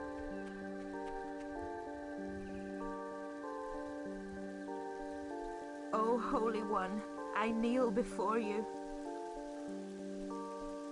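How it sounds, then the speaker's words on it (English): Steady soft rain patter from the video game Black & White (2001) runs throughout beneath sustained tonal music, with a voice speaking briefly in the middle. "Sounds like it's raining."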